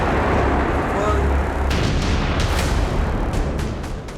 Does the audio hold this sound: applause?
no